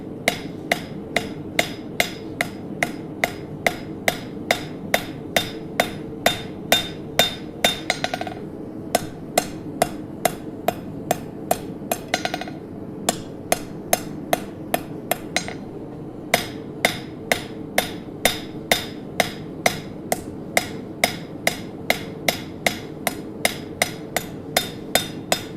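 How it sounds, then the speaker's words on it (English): A blacksmith hammers hot steel on an anvil while forging a baroque finial in the shop, sharp ringing strikes in a steady, even rhythm, loud and close, with brief pauses between runs. "There's a reason why I'm being so careful forging this. I'm doing a real tidy forging"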